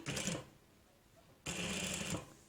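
Two short bursts of a sewing machine stitching a side seam near an invisible zipper, each a quick, close whirring run separated by a brief pause.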